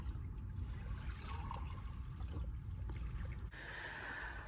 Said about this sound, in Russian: Сейчас я налью себе кофеечек.